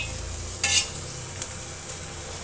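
Ginger, garlic cloves, cashews and a green chili dry-roast in a pan for mutton curry, making a soft, steady sizzle broken by a couple of brief scraping stirs.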